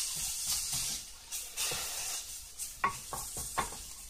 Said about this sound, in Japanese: 火を止めてよく混ぜます